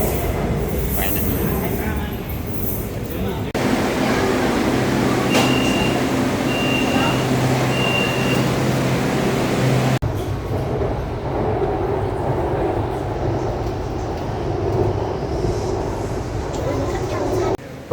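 A rumbling metro train ride in Bangkok, bound for Mo Chit Station and Chatuchak Market, with steady rolling noise and a few tonal hums and whines; brief muffled voices in the carriage.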